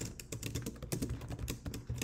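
Rapid, dense keystrokes on a computer keyboard during a LaTeX typing speedrun game, clattering steadily and close up for the whole stretch with no talk over it.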